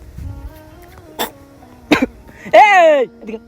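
A person coughs up close in a few short, sharp bursts spread across the moment, with a voiced sound near the end.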